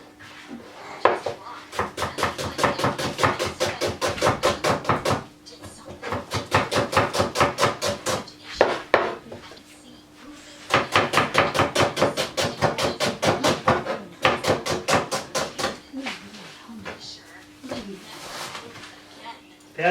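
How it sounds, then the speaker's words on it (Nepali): Knife strikes a cutting board in quick, even bursts while an onion is chopped in a home kitchen for a Nepali gundruk curry. Short pauses separate the runs of close, sharp taps. "प्याज काट्दैछु।"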